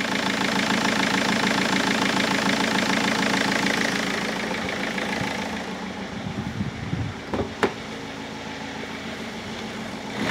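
Rover 75 engine idling after EGR and PCV work, a steady close-up diesel-like rumble with a faint knock, easing slightly toward the end as brief clicks and handling noises come through.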